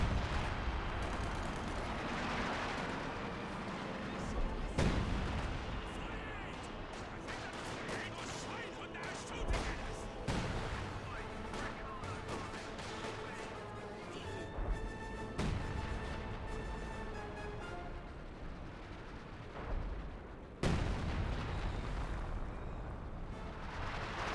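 A leFH 18 howitzer barrage in Company of Heroes, with repeated booming impacts and scattered gunfire over several seconds amid game battle noise, the blasts moderately loud and irregularly spaced.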